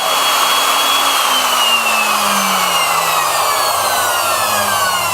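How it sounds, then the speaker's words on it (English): A CNC router runs continuously in a workshop, a loud, close, steady high-pitched whine with slowly drifting tones and no breaks. "So now that router I got there is really quiet."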